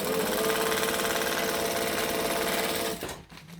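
A sewing machine runs a vinyl seam at an eighth-inch allowance, a fast, steady mechanical chatter heard up close and alone, stopping abruptly near the end.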